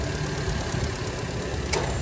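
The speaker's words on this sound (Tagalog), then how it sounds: "Saka natin paandarin ang makina." A Volkswagen Santana engine runs steadily with the air conditioning engaged after its magnetic clutch coil was replaced, a close, continuous mid-pitched hum with a faint knock and one brief click near the end.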